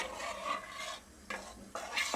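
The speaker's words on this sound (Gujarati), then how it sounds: "હવે સરસ બધું મિક્સ કરી દઈશું।" Wet, sloshing stirring as rice is mixed into kadhi in a pressure cooker, several strokes in bursts with short pauses between, close and fairly clear, no voices.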